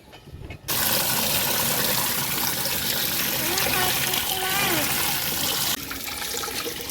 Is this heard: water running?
yes